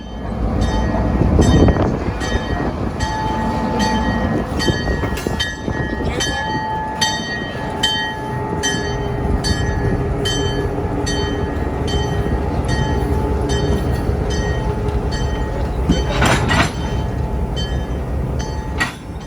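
A train rolls slowly through ungated street crossings in South Florida, its steady low rumble and clanking wagons continuous and fairly close, with a brief louder burst partway through and no talk.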